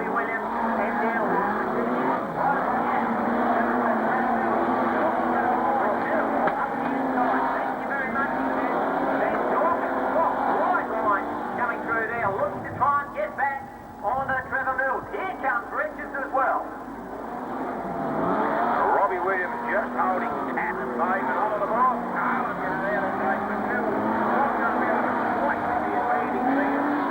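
Modified sedan race cars roar around Carrick Speedway during the 1998 Australian modified sedans title, running three wide through the pit turn. A loud, continuous engine drone rises and falls as they pass, with a commentator talking over it.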